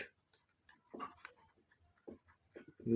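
Someone writes an answer to a second-grade math problem on paper, making faint, irregular scratching strokes close by in a quiet room.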